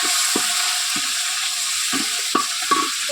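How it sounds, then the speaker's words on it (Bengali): Meat for tehari is stirred in a pan over browned onions, with a steady sizzle under regular, distinct scraping strokes of the spoon, roughly one every half second. "মাংসটা দিয়ে ভালো করে নেড়ে চেড়ে দেবো"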